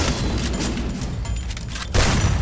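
Loud, booming shotgun blasts go off in a snowy shooter video game, a dense run of gunfire capped by one sharp, heavy shot near the end.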